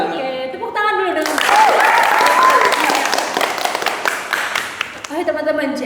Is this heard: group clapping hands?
yes